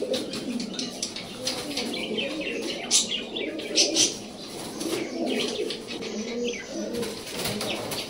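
Racing pigeons coo in a low, continuous close-up murmur, with a few brief brighter chirps and flutters standing out around the middle.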